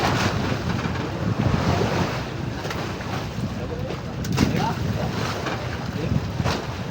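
Fishing boat at sea working the big-eye tuna grounds, its engine a steady low drone blended with wind buffeting the microphone and the wash of waves against the hull, continuous throughout.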